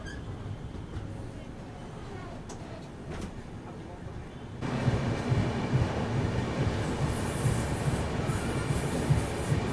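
A Rajdhani Express train halted at Nalbari railway station, with soft rail and station noise at first, then a sudden loud rush of a passing train with wheel rumble and high squeal, while a voice talks.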